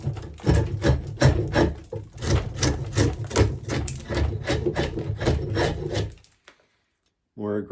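An 8-inch heavy-duty draw knife shaves wood in a quick series of rasping strokes, about a dozen close, loud scrapes in steady rhythm before stopping, followed by a brief pause and a short further sound at the end.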